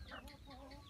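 Chickens clucking close by at a beekeeping site, a steady run of short fowl calls filling the moment with no talk over them.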